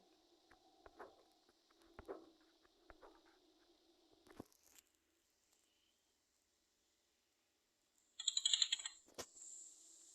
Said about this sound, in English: look at the box with the combination lock. And type the code that we saw